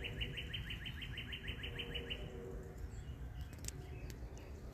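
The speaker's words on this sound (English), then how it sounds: "You can hear all the birds sing." Birds sing in the woods in a rapid, evenly spaced series of high chirps for about two seconds, followed by scattered calls over a constant hiss of wind and insects.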